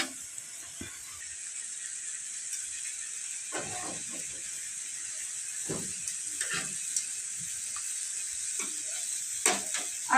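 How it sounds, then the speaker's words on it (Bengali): Silver carp tandoori frying in a pan with ginger, onion, coriander and green chilli, a steady bright sizzle throughout, broken by occasional scrapes and clatters as the fish is turned. "যেহেতু তন্দুরি, তাই পুরো মশলাটাই সুন্দর মাছের সাথে ভাজা হয়ে যাবে"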